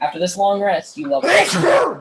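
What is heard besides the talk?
sneeze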